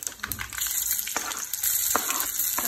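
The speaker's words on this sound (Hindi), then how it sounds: "सबसे पहले मैं डालूंगी मस्टर्ड सीड्स" Mustard seeds hit hot oil in a pan, making a close sizzle with sharp pops and crackles scattered through a hissing bed, the frying growing slightly louder toward the end.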